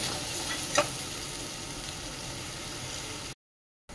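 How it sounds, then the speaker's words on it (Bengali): A Bengali spice paste with Kashmiri chilli and garam masala fries with a splash of water, a steady close hiss broken by one sharp clink, then a brief cut to silence before the sizzle resumes. "মশলাটা কষে নেবো একটু জল দিয়ে"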